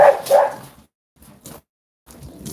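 A couple of short, sharp dog barks close by, then quieter yips and rustling after a brief pause.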